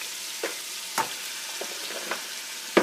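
Crabs and seasoned meat fry in a pot with tomato paste for Haitian legume, a soft steady sizzle broken by a few sharp stirring clatters, with no talk.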